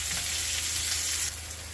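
Mushrooms sizzle and fry in a pan, a steady close hiss that eases slightly near the end, with no talking.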